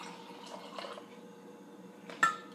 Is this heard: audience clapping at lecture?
no